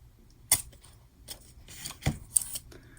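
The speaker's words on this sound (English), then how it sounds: "I'm actually going to use this little ink stand to just tear my washi" Washi tape being torn against the edge of a small ink stand, giving a few short, sharp rips and crinkles close by, with soft handling noises in between.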